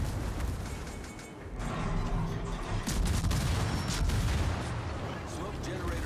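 Naval guns on a Tier 10 German destroyer in World of Warships fire armor-piercing shells, producing dense booming salvos and rumbling blasts over a constant mechanical roar, with someone talking over them.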